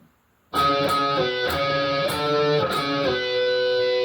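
An electric guitar plays a hardcore punk riff at a slow, deliberate pace, distinct picked notes and short slides ringing out clearly after a moment of silence.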